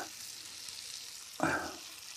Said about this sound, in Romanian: într-o tigaie ușoară faceți, le prăjiți o țâră